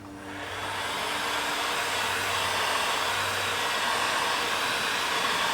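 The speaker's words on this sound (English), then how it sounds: "taking the old heat gun and blasting the sides here" A heat gun blasts hot air across the sides of a Queen Studios Loki bust, a loud, steady broadband whoosh that swells in the first half second and then holds constant without talk.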